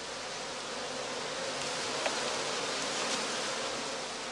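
Honey bees in a Lüneburg-type skep humming steadily over their combs, a dense continuous buzz close by with no voices.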